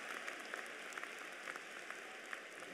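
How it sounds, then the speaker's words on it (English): Graduates and families at a spring undergraduate commencement ceremony keep up a steady, dense wash of clapping that sounds distant and fairly faint, with scattered sharper claps standing out and no talk over it. "Give yourselves another round of applause for just being so."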